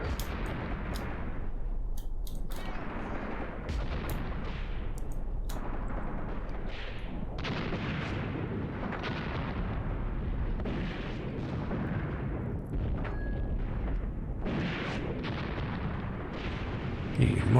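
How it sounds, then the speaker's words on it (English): Incoming mortar rounds in the Graviteam Tactics wargame rumble and thud in repeated distant bursts, a steady low barrage rolling under the battlefield ambience, with some voices talking. "mortar fire coming in yet?"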